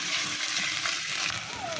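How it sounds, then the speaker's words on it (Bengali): Water poured into beef curry in a pan on a clay stove, a brief loud splashing gush over continuous sizzling, with a faint voice in the background. "এখানে গ্রেভি করার জন্য পানি দিয়ে দিচ্ছে,"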